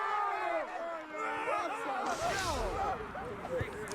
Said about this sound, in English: The crowd certainly approve.